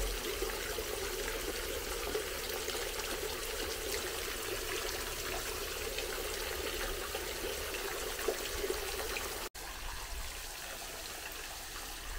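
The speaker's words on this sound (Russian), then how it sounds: "Не так давно появился этот фонтан, несколько лет назад." Continuous rushing splash of water from a fountain in a park, steady and fairly loud at close range with a brief dip near the end, no talking.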